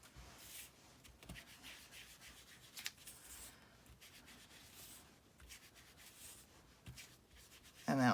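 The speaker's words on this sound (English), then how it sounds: "I'm just going to distress the paper." An ink dauber scrubbed over a sheet of paper to distress it makes soft, faint rubbing and scratching strokes that repeat at an uneven pace, close by, with a louder thump at the end.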